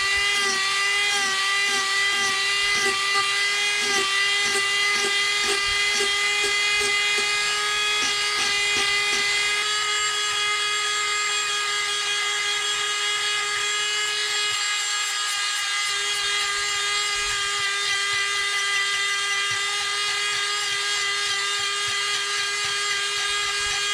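Dremel flex shaft spinning a Kutzall burr into wood, a steady high-pitched whine with a rapid pulsing chatter in the first half as the burr bites, then a smoother continuous tone, close and alone.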